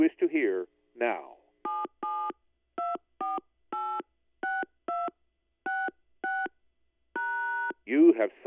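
Telephone keypad touch tones dialing a sequence of short, evenly spaced beeps with a few longer holds, sitting between bursts of an automated spoken voice.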